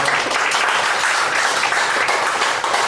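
An audience at a chess night gives the guest steady, dense applause, many hands clapping continuously at close range for the whole stretch, with only a faint voice beneath.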